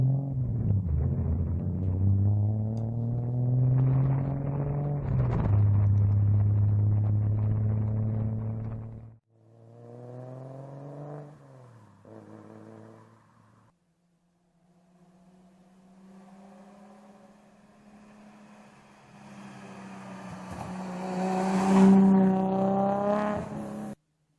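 A Subaru EG33 flat-six swapped into an Impreza revs in several rising pulls separated by pauses and quieter idling, with a final louder climb near the end, all moderately distant.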